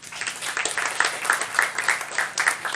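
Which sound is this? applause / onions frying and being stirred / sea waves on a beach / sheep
applause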